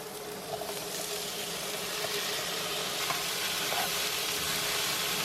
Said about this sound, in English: I've added my vegetables and my onions to the pan, and I also popped in a cube of garlic